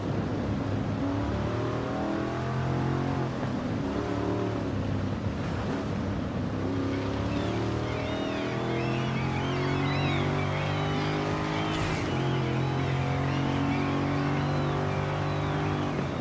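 A car engine running through its stock exhaust in the racing game Forza Horizon 5, droning and revving steadily with rising and falling pitch through gear changes, loud and continuous with no talk.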